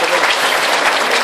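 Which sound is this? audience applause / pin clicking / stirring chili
audience applause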